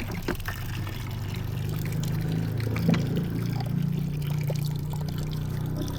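Water gushes from a hand-operated pump at a house in Samar in the Philippines, a steady, fairly quiet pouring and splashing that runs throughout.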